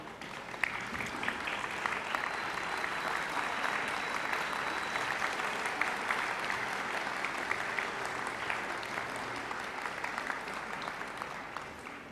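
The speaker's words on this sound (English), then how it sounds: "round of applause" Graduation audience applause at a university ceremony in Adelaide, an even, continuous patter of many hands clapping at moderate distance, steady and unbroken throughout with no voices standing out.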